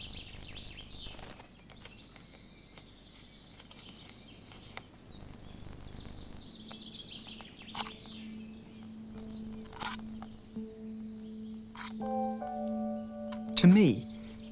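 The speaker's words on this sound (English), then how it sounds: "This time, the blue tit gets its reward." A blue tit calls in short bursts of high, rapid chirps that repeat several times, with faint answering bird notes and a steady low hum beneath; no one speaks.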